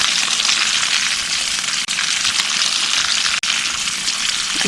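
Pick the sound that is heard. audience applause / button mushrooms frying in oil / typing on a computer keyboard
button mushrooms frying in oil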